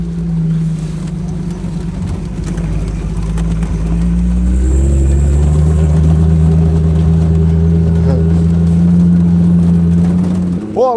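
A classic car races on snow and ice at IceWheels in Slovakia, heard from inside the cabin: a loud, steady engine drone rises in pitch as it revs, with a brief higher whine near the end.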